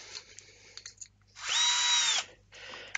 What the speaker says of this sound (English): we take in the 4mm drill